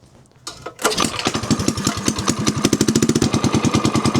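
A cold 196cc small engine with the choke on is pulled and catches, settling quickly into a loud, rapid, evenly pulsing putter that runs close by.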